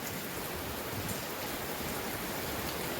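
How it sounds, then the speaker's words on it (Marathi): Heavy rain pours down over foggy Marleshwar in Ratnagiri, Maharashtra, a dense, even hiss of drops that stays steady and unbroken throughout, with no voices. "पाऊस पडायला लागल्या जोरात"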